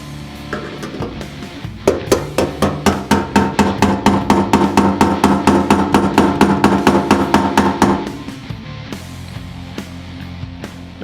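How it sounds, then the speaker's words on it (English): A hammer taps a new fuel tank sending unit into place on a 1965-1970 Mustang fuel tank, with about thirty quick, evenly spaced metallic strikes close by, preceded and followed by a few scattered clanks. "You want to use a hammer to push it on the rest of the way."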